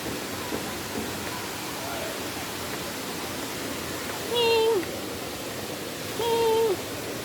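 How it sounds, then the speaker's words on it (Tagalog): Hinulugang Taktak waterfall in Antipolo rushing as a steady broad hiss of falling water in the background, with a voice speaking briefly over it twice. "Ayun na yung falls"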